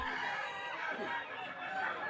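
A kukuak balenggek rooster crows steadily at a crowded contest, its long, wavering call filling the whole stretch loud and close against a dense background hubbub of people.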